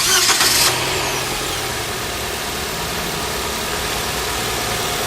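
A car engine cranks briefly with a whirring starter, then catches and settles into a steady, close idle.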